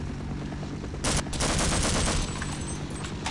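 Bursts of automatic gunfire aimed at an enemy in the Half-Life video game, rapid shots over a constant background rumble, loudest in the middle stretch, with no talking.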